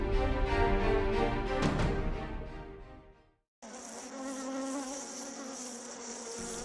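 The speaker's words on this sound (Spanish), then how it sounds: "Las abejas." Bees buzz in a loud, dense drone that swells and fades, breaks off for a brief silence, then returns as a steady, close, higher-pitched hum.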